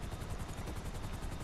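Helicopter in a video game, a steady pulsing rotor thrum with fast even beats running continuously, fairly loud and alone with no talk.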